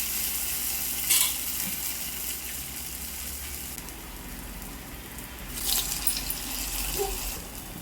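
Onion garelu, lentil fritters dipped into hot oil, fry with a steady, moderately loud sizzle, broken by a couple of brief sharper spatters as batter drops in.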